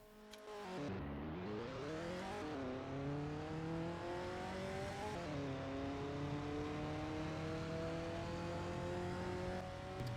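A car in the Roblox game Polish Car Driving accelerates hard from 0 to 100 with a manual gearbox, its engine whine climbing in pitch through three upshifts, each marked by a brief drop, loud and continuous.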